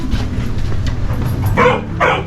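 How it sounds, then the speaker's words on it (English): A dog barks twice, close and fairly loud, in a couple of short sharp bursts over a steady background rumble. "You could control your dog now."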